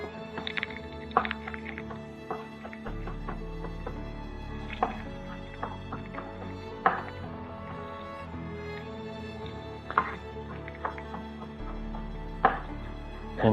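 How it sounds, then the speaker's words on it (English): Garlic being minced finely with a kitchen knife on a cutting board, a steady run of quick sharp chops with brief pauses, close and clear with no talking. "I'm going to mince these very"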